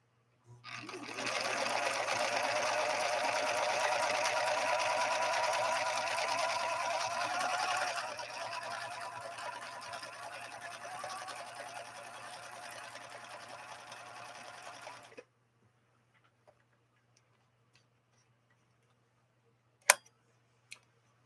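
A rescued Viking Husqvarna 3230 sewing machine sews a decorative shell stitch in one continuous run of about fifteen seconds, close and loud, easing slightly halfway through, then near silence broken by a couple of faint clicks.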